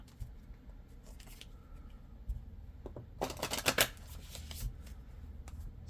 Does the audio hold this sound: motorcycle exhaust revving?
no